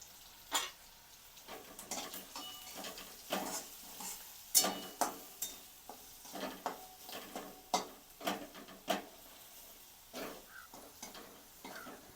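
Crushed peanut powder mixed with red chili powder and masala is stirred in a pan over a low flame, giving irregular scraping taps and clinks of the spoon against the pan, close and moderately loud, with no talking.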